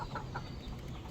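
A hen clucks inside a cage, a few soft, low calls near the start over a quiet background, brief and close.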